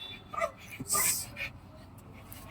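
A Belgian Malinois whimpers and yips softly while gripping a piece of wood in its mouth, with a couple of short, close whines over quiet background noise.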